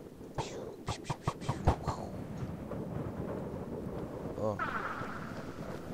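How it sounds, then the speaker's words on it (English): Wind gusting high up in the Minecraft Technic modpack: a steady, breathy rush after a few sharp knocks, with a brief murmur of a voice. "Sounds very windy up here."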